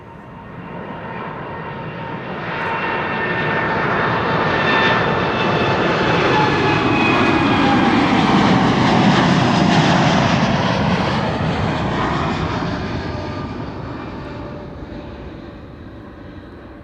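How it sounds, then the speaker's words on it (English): An Air Europa Boeing 787-9 Dreamliner departs Amsterdam Schiphol for Madrid, its jet roar building to a loud peak with a thin whine on top, then fading gradually as it climbs away. No one speaks. "Air Europa on its way to Madrid, 7879 Dreamliner, flight 1098."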